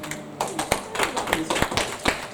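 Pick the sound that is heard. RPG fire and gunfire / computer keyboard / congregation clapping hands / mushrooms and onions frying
congregation clapping hands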